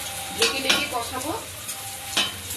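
A pan of chicken feet and giblet curry with potatoes sizzles gently as a spatula scrapes and stirs it, giving several clear metallic scrapes against a soft frying hiss.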